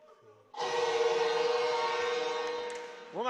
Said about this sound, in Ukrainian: сирена